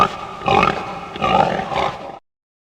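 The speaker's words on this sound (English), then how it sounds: "Very good. Pig." A pig grunts three times in quick succession, close and fairly loud, each grunt rough and throaty, then the sound stops abruptly into silence.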